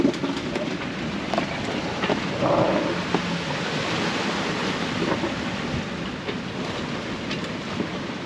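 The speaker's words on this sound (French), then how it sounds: "Il y a des vagues." Ocean waves wash steadily around a sailboat at sea on a Canary Islands to Martinique crossing, a continuous broad rush with gusting wind noise and an occasional faint bird call, no voices.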